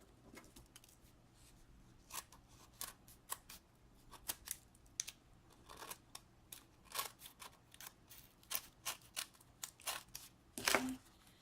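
Scissors trim the edges of a paper Easter tag in a string of crisp, close snips, quiet at first and then coming in quicker irregular bursts, with a louder cluster near the end.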